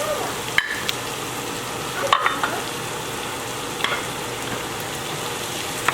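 Tomatoes sizzle steadily in a pan of cooked garlic for shrimp pasta, a continuous frying hiss broken by a few sharp clicks and scrapes of stirring, with no voices.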